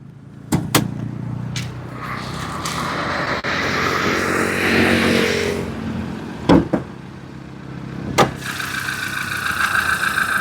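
A car engine idles steadily with a mid-pitched hum, and a few sharp clunks like door knocks cut through at intervals.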